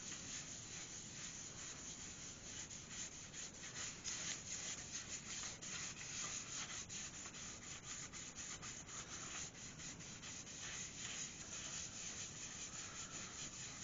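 Steady hand sanding of a large hawthorn root wood vase, a continuous close, even rubbing rasp with slight rhythmic strokes and no talking.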